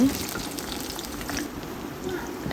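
Chopped onion and three or four green chilies fry in hot oil for a potato bhaji, a soft, even sizzle heard close and moderately loud throughout, without speech.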